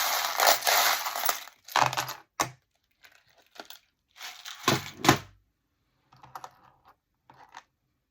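Charms being mixed by hand for a divination draw: close bursts of clinking, rattling and shuffling with brief pauses between them, quiet and with no talking.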